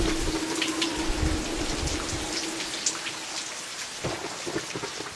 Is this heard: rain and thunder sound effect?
yes